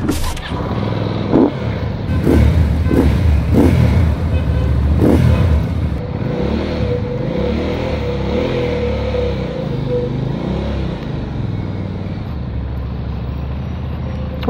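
A Benda Napoleonbob 450 cruiser motorcycle engine cranks, catches and revs in several sharp bursts, then settles into a steady throbbing idle close by.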